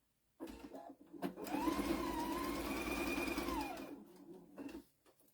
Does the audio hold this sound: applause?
no